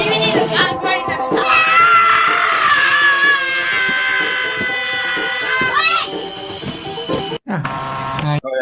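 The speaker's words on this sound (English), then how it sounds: "The end of that one is just that song playing with screaming over it" A recorded song plays with loud, sustained screaming and wailing voices over it, forming harmonic, strained cries, followed by a brief cut and a different burst of sound near the end.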